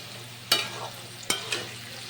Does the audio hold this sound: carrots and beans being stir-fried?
yes